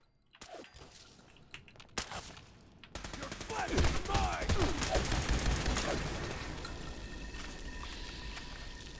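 Sustained Gatling gun fire in Fallout 76, a dense continuous mechanical rattle starting loudly after a few separate shots and staying steady, with brief talk near the start.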